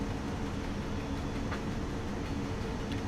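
A West German BR 140 electric locomotive hauling a freight train, heard as a steady rolling rumble of wheels and wagons passing close by, continuous and moderately loud, with faint rail clicks and no speech.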